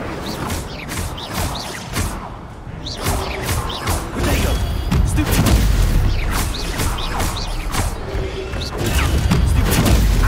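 Fire spell Incendio cast in Hogwarts Legacy: loud whooshing blasts and crashing impacts repeat in quick, uneven succession over a busy combat backdrop, with mechanical clatter between bursts.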